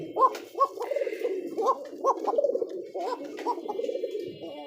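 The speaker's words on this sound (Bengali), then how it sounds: "এটা হচ্ছে মাদি কবুতর" Pigeons at a bird market coo continuously in a close, throaty rolling chorus, with overlapping calls and some faint chatter in the background.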